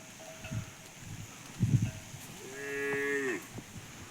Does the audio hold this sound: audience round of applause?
no